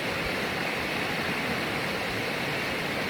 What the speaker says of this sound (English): you can probably hear that we're at the water's edge